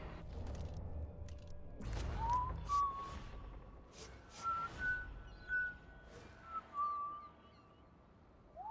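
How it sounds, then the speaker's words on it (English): Whistling in the stealth video game Dishonored 2, a melodic tune of sliding held notes in several short phrases, moderately loud over quiet ambient game background with no talk. "Who is whistling?"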